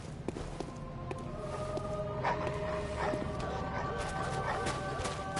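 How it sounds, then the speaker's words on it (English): Dogs barking in the video game Bloodborne, a few scattered yips and barks heard faintly behind steady game ambience and murmured voice, with tonal sound effects in the mix. "There's a lot of dogs."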